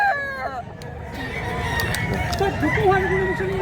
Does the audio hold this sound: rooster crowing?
yes